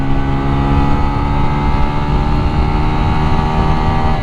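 A Lexmoto LXR 125 motorcycle engine held at full throttle around 7,000 revs in fourth gear on an open road, a loud, steady buzzing drone with rising harmonics and no talk.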